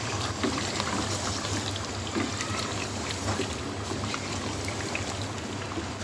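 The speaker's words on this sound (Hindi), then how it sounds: "अब मैं इसमें डाल दूँगी पानी।" Water poured steadily into a pot of chicken and potato curry, a continuous loud splashing wash that stays even throughout, with no talk.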